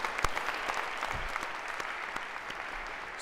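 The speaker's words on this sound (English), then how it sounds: "A round of applause for our other pair of volunteers here." Fairly quiet applause from a university lecture audience for volunteers, a steady patter of clapping with a few sharper individual claps and faint bumps, no speech over it.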